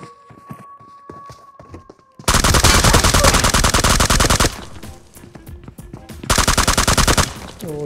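Automatic weapon fire in the mobile game BGMI (PUBG Mobile), a loud sustained burst of rapid shots, a second shorter burst after a pause, with quieter clicks and footsteps before the shooting starts.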